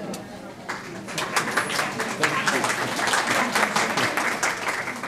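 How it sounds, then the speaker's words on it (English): Audience clapping for a speaker at a university interfaith lecture: a moderate, crisp round of applause that swells after a quiet start and continues steadily for several seconds. "thank you for the applause"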